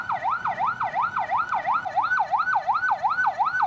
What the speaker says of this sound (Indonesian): satu mobil ambulans yang sedang membawa pasien turut terjebak saat akan masuk ke pintu tol